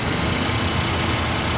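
A 2016 Nissan Juke SL with a 1.6-liter turbo engine idles, giving a steady, even low hum with a faint mechanical whir. No voices are present.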